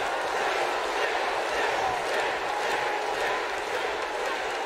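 A large crowd roars steadily at a WWE 2K18 wrestling match set in a stadium, a dense continuous wash of cheering heard from a distance without clear peaks.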